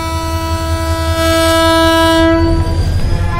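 A train pulls into a station with its horn blaring in a long, loud, steady blast over the low rumble and rattle of the cars, the horn cutting off near the end while the rolling noise continues.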